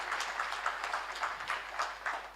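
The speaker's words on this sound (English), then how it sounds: "Can we have a huge round of applause for our honorable guest of honor?" A crowd at the IndiaFirst Startup Expo & Conclave 2022 applauds the guest of honor. The clapping is brief and moderately loud, with a steady pulsing rhythm throughout.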